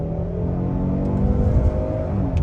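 A 2023 Hyundai Palisade Limited accelerating on the gas during a paddle-shift upshift, with a steady engine drone heard from inside the cabin, fairly loud and unbroken, with no talking.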